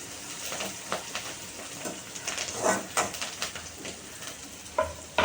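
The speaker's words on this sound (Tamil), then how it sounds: "ப்ரான் ஃப்ரை பண்ணிகிட்ருக்கேன்." Prawns fry in a pan at home, a soft crackling sizzle with irregular bursts and scrapes of a spatula, fairly quiet and close, with no talking.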